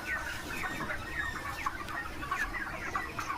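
A dense flock of chickens on a poultry farm housing about six thousand birds clucks and chatters continuously, many overlapping calls close by, with no voices.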